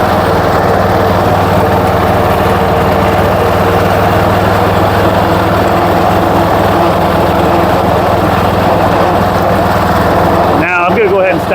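John Deere 210 garden tractor engine pulling steadily up a hill, a loud, constant close-up drone with a faint voice underneath, cutting off abruptly near the end.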